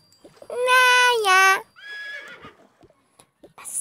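A horse whinnies loudly in the Toca Boca video game, one long harmonic neigh with a break, followed by a shorter, softer snort-like call and faint clatter in an otherwise quiet scene.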